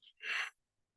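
During a box breathing exercise, a single soft, close breath is pushed out through the nose in a brief airy rush, then silence.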